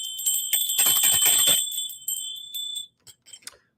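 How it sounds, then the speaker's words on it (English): Two handheld bells from Peru, one high-pitched and one low, ring out loud and close with bright sustained tones, then decay into a few faint, scattered dings before silence. "And I use these bells I use for calling."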